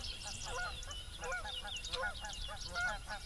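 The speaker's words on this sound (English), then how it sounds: "Those are the same 2 geese. These freaking Canadians." Canada geese honking repeatedly in a loose, overlapping series of nasal calls at moderate distance, heard over steady outdoor background noise by a lake while bass fishing before a storm.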